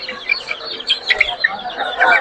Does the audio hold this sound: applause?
no